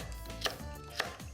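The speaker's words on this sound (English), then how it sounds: "So a little bit of chopping and, you know, getting ready to go" Vegetables such as carrot, celery and potato are chopped with a knife for an Italian boil-up, giving two sharp, close chops on a board about half a second apart over a quiet room, with no talking.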